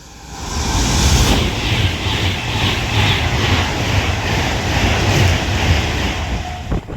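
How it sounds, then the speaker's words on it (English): An Avanti West Coast Class 390 Pendolino electric train passes through a station on the West Coast Main Line at Winsford. A loud, steady rushing roar of wheels and air holds for the whole stretch, with faint rhythmic clatter over the rails. "Now passing through is going to be an Avanti West Coast Class 390 Pendolino"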